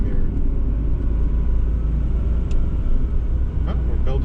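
Long-idle Toyota Supra on the road, its engine droning steadily with a low rumble as turbo boost builds, heard from inside the car under light talk.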